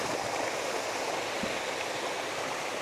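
Mahiwaga Falls in Amadeo, Cavite flows with a steady, dense rush of falling water, constant and fairly loud with no voices.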